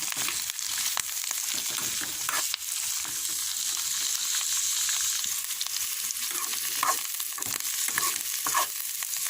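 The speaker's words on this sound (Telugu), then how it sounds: "ఇవి ఒక 5 నిమిషాల్లోనే ఫ్రై అయిపోతాయి" Vegetables frying in a pan for carrot chutney, a continuous close sizzle with occasional stirring scrapes and clinks.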